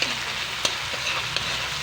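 Onion, garlic and tomato sautéing in a pan for a bitter gourd dish, giving a continuous close sizzle with a few sharp stirring scrapes and taps, no voices.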